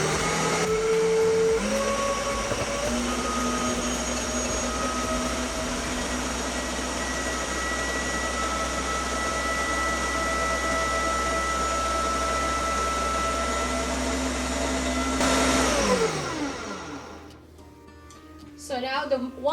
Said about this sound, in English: Now we're gonna start our blender. We're gonna put it into puree setting.